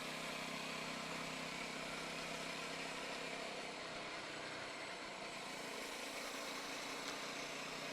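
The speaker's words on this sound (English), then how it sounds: "it's got a nice raspy, throaty exhaust note" A BSA Bantam motorcycle engine runs with a steady, raspy and throaty exhaust drone, dense and continuous at a constant level with no speech.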